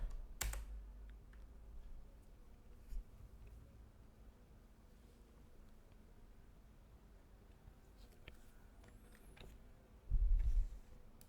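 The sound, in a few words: typing on a computer keyboard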